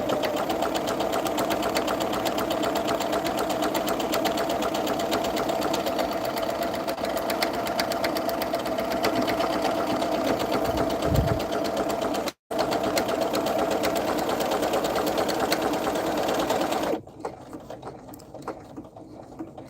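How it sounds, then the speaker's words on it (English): A serger sewing machine stitching and trimming fabric runs in a fast, steady mechanical whir, pausing for a split second midway and stopping near the end, leaving quieter handling sounds. "I love this machine because it cuts for me afterwards."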